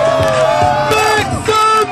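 A hyped New Year's Eve crowd at a skating rink yells and cheers loudly and continuously in a short burst of overlapping shouts.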